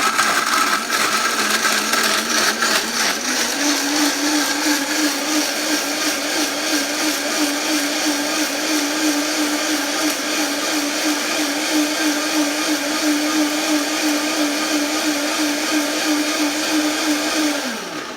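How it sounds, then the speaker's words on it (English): A blender purees soaked dates with soy milk, oats, and almond and vanilla extracts, giving a loud, close, continuous motor whir that holds a steady pitch for about eighteen seconds before winding down at the end, with no talking over it. "Okay, so now that this has been sitting, we're gonna blend"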